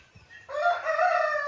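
A chicken kept in a home garden with plants and coconut trees gives a loud, drawn-out crowing call that starts abruptly after a moment of quiet and carries on steadily, close by.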